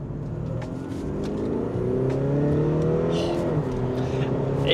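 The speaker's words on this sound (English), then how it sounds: "Shall I show you how fast it is?" A 313 hp biturbo Audi A6 C7 with a noisy exhaust accelerates hard from inside the cabin, engine drone rising steadily in pitch through the gear, with a brief dip at a shift.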